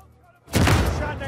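Video game gunfire in Uncharted 4, a sudden loud burst of rapid shots that starts partway through and keeps going as a dense barrage.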